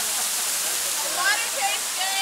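St. Mary's waterfall pours in a constant, bright rushing hiss close by, with people talking over the roar of the water.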